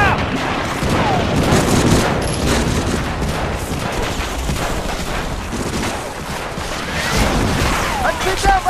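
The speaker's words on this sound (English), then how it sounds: "I'll give you some cover fire!" Wartime beach assault in Medal of Honor: Frontline on PS2, with dense machine-gun cover fire and rapid rifle shots crackling nonstop, heavy thuds and crashes mixed in, and shouted voices under the battle.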